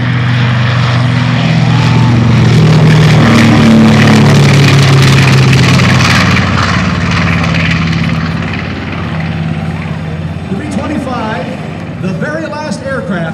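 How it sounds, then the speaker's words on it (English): A B-25 Mitchell World War II bomber flies at the Charleston, West Virginia air show. Its loud, droning propeller-engine roar carries under an announcer's voice on the public address and eases off toward the end. "One of the most legendary bombers of World War II, the B-25 Mitchell."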